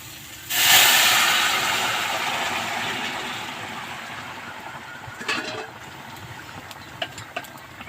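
Water poured onto fried spice paste in a hot pan bursts into a loud, close hiss that slowly fades into a softer simmering sizzle, with a few utensil clinks near the end.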